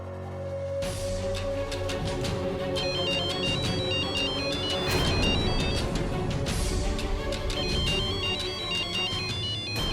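A phone ringtone plays late at night in a home, a steady electronic melody that repeats and sounds close and clear, with no voices over it.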